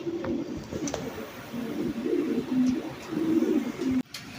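A pigeon coos repeatedly nearby in soft, low, rolling phrases, and a short scrape cuts it off at the end.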